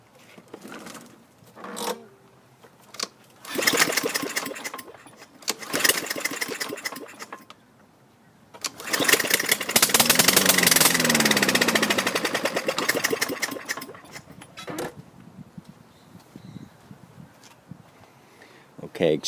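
A 2017 Troy-Bilt TB200 mower engine with no muffler sputters through several loud pulling attempts, then fires on its own and runs very loudly and raspily for a few seconds before dying away.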